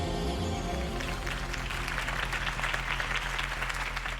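Applause from a crowd at a Harvey Dent campaign rally in Batman - The Telltale Series, heard as sustained clapping over a low musical score in the game audio.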